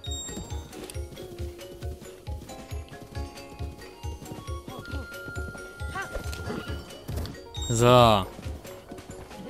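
A horse in the video game Zelda: Breath of the Wild gallops with steady, rhythmic clip-clopping hooves, then lets out a loud whinny near the end, while someone speaks briefly.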